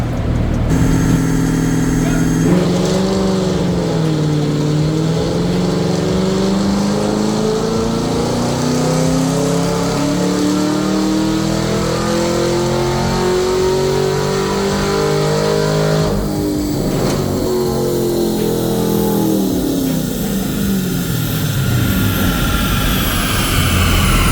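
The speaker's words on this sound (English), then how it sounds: "This time I want to just test a traditional gear roll-on test." Engine of a car on a chassis dyno during a gear roll-on test, climbing steadily in pitch through each gear with a sharp shift break near sixteen seconds, loud and continuous throughout, no talking.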